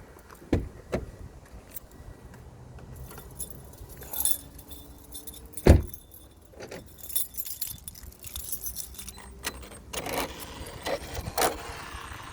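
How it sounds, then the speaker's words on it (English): Car keys jangling while a car is locked, with scattered clinks and soft clicks, a sharp lock thunk near the middle and faint background noise between the sounds. "Let's lock my car, that would help."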